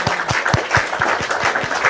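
Rhythmic hand clapping, about ten sharp claps at a steady brisk pace, close and fairly loud, with no talking.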